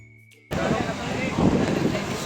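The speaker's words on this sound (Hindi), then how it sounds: "नहीं तो यहाँ पे अच्छी हवा चल रही है।" Steady outdoor wind roars into the microphone after a brief quiet start, a broad rushing noise with gusty swells that stays loud throughout.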